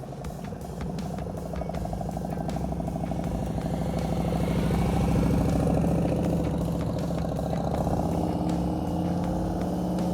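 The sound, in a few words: motorcycle engine idling during slow-speed riding practice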